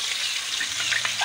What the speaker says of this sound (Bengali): হালকা করে উপর থেকে ছড়িয়ে দেবো তেল